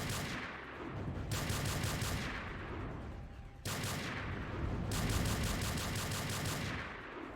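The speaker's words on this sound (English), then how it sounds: "It's like a freaking scattershot tank. The rockets go everywhere." Rapid, dense bursts of rocket fire in a modded Doom video game, scattering in two long, loud volleys that are separated by a short pause.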